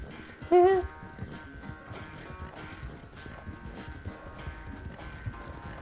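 Horse galloping in the video game Red Dead Redemption 2, with steady rhythmic hoofbeats throughout, a short whinny near the start, and a faint soundtrack beneath.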